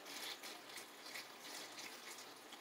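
Water pouring steadily over bone broth ingredients in a pot, a continuous close splashing rush that stays even throughout with no talking.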